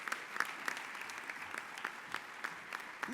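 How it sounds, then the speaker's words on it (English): A crowd at a softball hall of fame induction ceremony applauds, steady moderate clapping with distinct individual claps standing out rhythmically, fairly quiet and distant. "please give Carol and her staff a round of applause"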